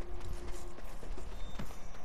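Horse hooves in the Black Desert online game: a brisk, irregular clip-clop of several hoofbeats over about two seconds, close and fairly loud, with faint mechanical clicks and no talking.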